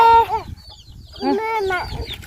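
Chickens clucking close by while feeding, a run of short throaty calls, a pause, then another busy burst of clucks.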